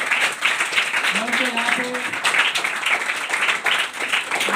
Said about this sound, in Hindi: मैं सभी स्टूडेंट्स को रिक्वेस्ट करता हूँ कि जोरदार तालियों से उनका स्वागत करें.